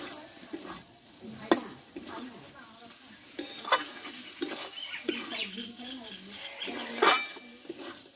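Eggplant and potato being stir-fried with spices in a pan: soft sizzling under repeated scrapes and clinks of a spatula against the pan, with a voice speaking faintly in between.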